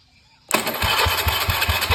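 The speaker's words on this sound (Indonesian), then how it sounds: "dinamo starternya masih berfungsi dengan baik" An old Honda Beat motorcycle's starter motor cranks when jumpered directly in a workshop. After a brief quiet moment it bursts in loud and close: a steady whirring grind with regular low thumping pulses.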